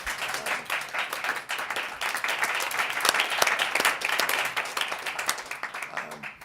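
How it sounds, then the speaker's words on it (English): Audience at a financial literacy panel event breaking into steady applause, many hands clapping densely at moderate distance, sustained for several seconds. "how about a round of applause and appreciation?"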